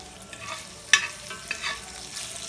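Ground meat cooking in a pan for a meat and cheese omelet, a soft crackling sizzle with a sharp utensil clack and a few scraping stirs, close and without talking.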